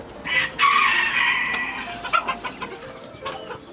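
A hen clucking close by, with a drawn-out squawk followed by a series of short, sharp clucks.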